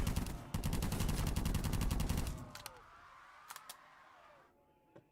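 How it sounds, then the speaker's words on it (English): Rapid automatic gunfire rattles loudly in dense bursts while shooting a zombie in Black Ops 3 custom zombies, then cuts off, leaving a few isolated sharp shots and a quieter tail. "Now I gotta get ready to shoot a zombie."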